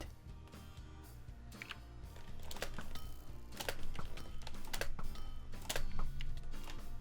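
Rapid clattering of computer keyboard keys, fast irregular typing that grows busier over a steady background hum.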